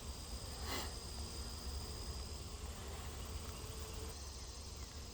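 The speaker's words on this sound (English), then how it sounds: "Probably about a 3-pound swarm. Just going to sit here and let them walk in on some extracted comb" Steady close buzzing and humming from a honeybee swarm of about three pounds walking in onto extracted comb and brood comb at a hive in July, continuous and fairly quiet throughout.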